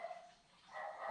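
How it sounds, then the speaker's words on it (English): A dog barks a few times in the background, moderately loud, with short yelping bursts and no talking over it. "as you hear my dog barking."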